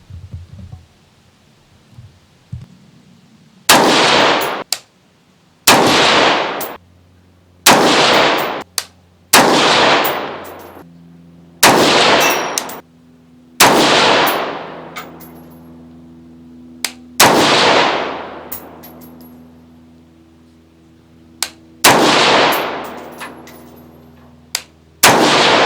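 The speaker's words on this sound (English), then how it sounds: "This next group will be with Fiocchi's Exacta rifle match, 77 grain with Sierra Match King bullets." About ten sharp rifle shots of Fiocchi Exacta 77-grain match ammunition with Sierra MatchKing bullets, fired at a target, crack loud and close roughly every two seconds, each followed by a ringing decay and near-silence.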